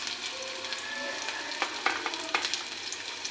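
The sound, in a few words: onions frying in hot oil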